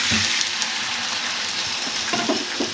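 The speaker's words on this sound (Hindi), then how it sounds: "अब ये देखें मैं अपनी सारी चिकन को डाल देती हूँ इसके अंदर" Chicken pieces dropped into a hot pan sizzle and fry for koyla karahi, a steady bright hiss close up with a few soft stirring clinks near the end.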